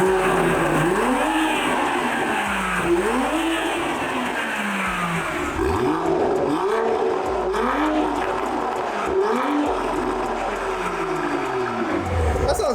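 A BMW B58 engine fitted with a CSF intake manifold revs repeatedly, each blip rising and falling in a rhythmic series of loud, close throttle sweeps with no talking.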